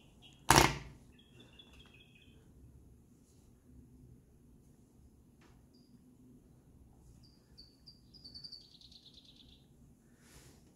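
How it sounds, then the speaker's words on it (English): A sharp thump opens, then small birds chirp faintly at a distance, short high tweets scattered over a quiet outdoor hum. "there's a couple, some birds chirping away in the background here"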